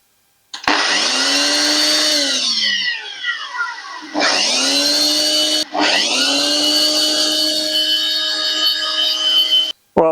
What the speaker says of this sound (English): that blender was noisy